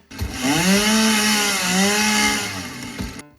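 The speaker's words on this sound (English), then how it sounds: "I really love that the chainsaw can cut down an area of vegetation" A chainsaw in the Satisfactory video game cuts through an area of vegetation, a loud, steady revving whine that holds for about three seconds before cutting off, with no talk over it.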